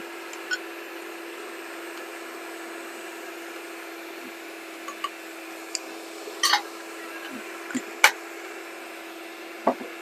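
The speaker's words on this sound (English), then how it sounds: "Turn your mixer up. We want to get that really going." An electric mixer runs steadily at high speed, beating coffee powder into a gelatin mix for cappuccino cupcakes. It makes a constant close motor whine, broken by a few faint clicks and knocks.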